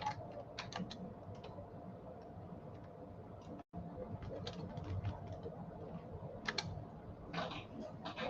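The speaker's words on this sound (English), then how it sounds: "Let me type that in before I forget." Quick, irregular clicking of a computer keyboard being typed on at a desk, close and light, with short pauses between bursts of keystrokes.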